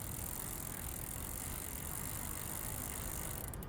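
A hybrid bike with a chain drive being pedaled, giving a continuous faint whirring, ticking drivetrain rattle over steady low rumble, close and without speech.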